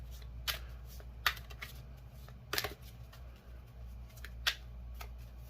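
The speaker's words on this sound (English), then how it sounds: "I need to start doing this more often so I can get the shuffling down track" Tarot cards are shuffled with a few sharp riffling bursts and soft slaps, near and fairly quiet over a low background hum.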